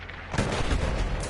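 Artillery fire in the World War I shooter Battlefield 1: a sudden loud boom with a broad rumbling blast that rolls on for about a second, with no talking.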